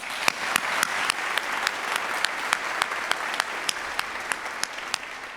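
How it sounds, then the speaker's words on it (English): Conference audience applauding after a keynote speaker's request, a steady, fairly loud wash of clapping with sharper individual claps standing out throughout, no talking over it. "Can we give them a quick round of applause?"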